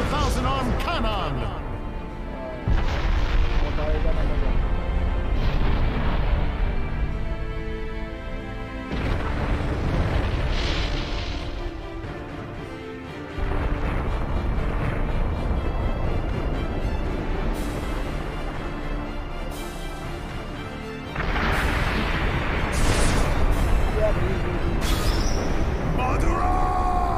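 Thousand-arm cannon attack from a Naruto Shippuden Ninja Storm video game, Madara versus Hashirama: repeated loud booming explosions and bursts in several heavy waves, mixed with game music and character voices.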